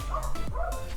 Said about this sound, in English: Sorry if you hear that dog outside.